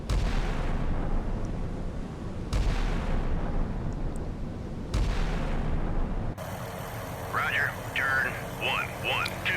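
An enemy warship's guns fire in the naval combat game Sea Power, set in the Strait of Hormuz: three heavy booms about two and a half seconds apart, with someone talking over the battle noise.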